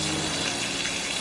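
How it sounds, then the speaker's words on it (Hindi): Heavy rain falls outside, a steady, dense hiss of drops that fills the whole short stretch at an even, moderate level with no talk over it. "अभी बाहर बहुत बारिश हो रही है।"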